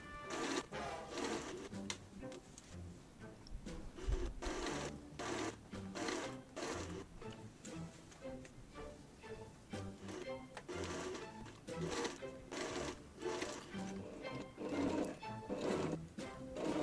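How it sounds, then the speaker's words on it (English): A 1960s Singer sewing machine sews darts in quick rhythmic bursts of stitching, starting and stopping repeatedly, close and clear, with no talking. "Here I'm sewing the darts on my vintage Singer sewing machine."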